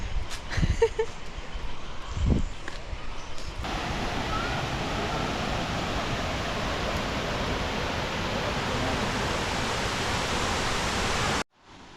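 A Thai waterfall, Nam Tok Chet Sao Noi, roars as a dense, continuous wash of falling water. A couple of brief knocks come first, then the rush swells up and holds loud and steady until it cuts off abruptly near the end.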